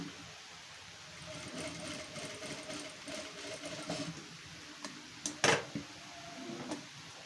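A sewing machine stitches double tucks in a crossed pattern on the cup of a katori blouse, giving a faint, steady mechanical whir with light ticking and a brief louder clatter near the end.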